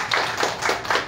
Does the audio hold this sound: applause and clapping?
yes